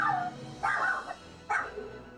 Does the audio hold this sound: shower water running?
no